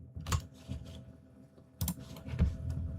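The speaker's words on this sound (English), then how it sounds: "I'm typing. Yes, can you hear it?" Computer keyboard typing during a game-jam livestream, with bursts of clicking keystrokes in two clusters separated by a quieter stretch, close and moderately loud, no talk.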